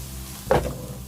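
Rice dropped into a wok of kimchi stir-fry lands with one soft thump and brief rustle over a steady low sizzle, with no one speaking.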